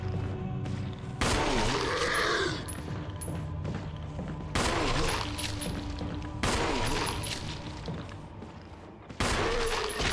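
Gunfire in Resident Evil 1 HD Remaster, four heavy booming shots spaced a couple of seconds apart, loud and close, each trailing into a resonant decay over quieter game ambience.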